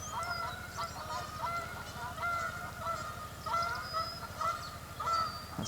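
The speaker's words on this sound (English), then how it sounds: "That's those damn geese again." Geese honk repeatedly in overlapping calls, moderately near, over a low steady background rumble.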